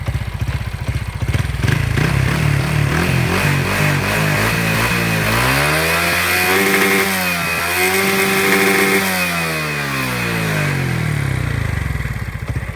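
A Honda Wave 125i motorcycle with a Pamoke exhaust revs hard under throttle, climbing to a high buzzing whine, holding, then dropping back, loud and close with no talking.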